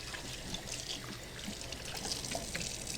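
Hands rinsed under running tap water in a kitchen while preparing a stuffed pork loin, a steady soft splashing flow with small splatters, close and without talk.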